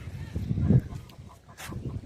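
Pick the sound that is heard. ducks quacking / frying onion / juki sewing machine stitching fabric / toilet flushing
ducks quacking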